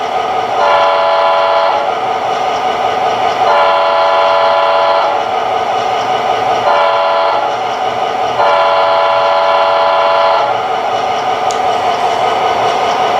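A model diesel locomotive (MTH Premier GP-30) sound system blares a loud, sustained air horn in several long blasts separated by brief gaps, with a steady rumbling engine underneath.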